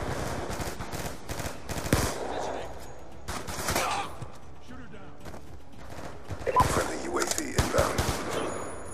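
Call of Duty Black Ops 2 gunfire, with rapid machine-gun bursts and fusillades coming in clustered volleys throughout, loud and busy, with voices talking over parts of it.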